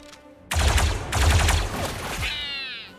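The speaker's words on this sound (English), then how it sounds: "Somehow the assist fire always hits." Blaster assist fire in the Star Wars Zero Company video game: a sudden loud volley of rapid energy-weapon shots lasting about two seconds, then a descending whining zap trailing off.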